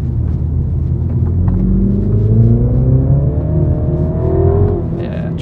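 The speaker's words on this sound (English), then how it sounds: "Second gear out of here then. A little bit of wheel spin, it's not ideal conditions." A Mini John Cooper Works accelerates hard in second gear on a short muddy stretch with some wheel spin, its engine note rising in a loud, close, rumbling drone that climbs steadily in pitch.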